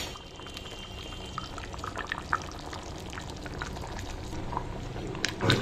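A pot of Mysore dal bubbles at a steady, close boil on the stove, a continuous wet burbling with scattered small pops and no talking.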